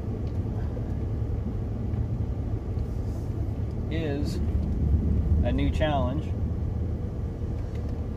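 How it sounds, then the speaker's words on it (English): A truck engine rumbles low and steady while driving, a constant drone that runs underneath a voice speaking briefly partway through. "Driving the truck"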